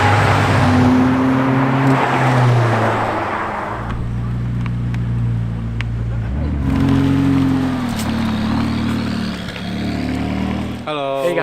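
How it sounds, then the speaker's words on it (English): Supercars driven in Hong Kong by owners meeting at remote spots on the island, engines droning steadily with revving swells and passing cars, alongside speech throughout. "supercar owners get together at different remote spots of the island and they take their cars for a spin"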